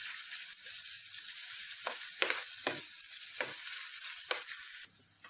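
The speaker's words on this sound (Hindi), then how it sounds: "चिकन हमारा कच्चा नहीं रहना चाहिए। अच्छे से हमें सौते करना है।" Chicken sautéing in a pan over low gas gives a steady soft sizzle, broken by several sharp scrapes and clacks of a spoon stirring, close and with no voices.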